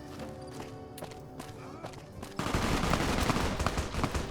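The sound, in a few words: gunfire during a Legion attack in Fallout New Vegas video game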